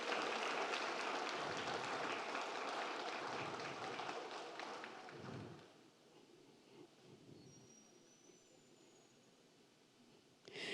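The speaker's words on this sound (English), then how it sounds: "Let's give her a round of applause as she comes forward." A school board meeting audience breaks into broad, dense applause for a student Presidential Scholars semifinalist from Ridgeview High School, loud for about five seconds before fading into quieter room noise.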